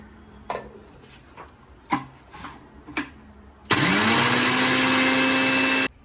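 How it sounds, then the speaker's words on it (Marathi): Garam masala spices are ground in a kitchen mixer grinder: a few short knocks and clatters, then the motor bursts on loudly with a harsh whirring roar for about two seconds before cutting off. "आता आपण ते मिक्सरमध्ये बारीक करून घेऊ पहिले सगळे गरम मसाले मी बारीक करणार आहे"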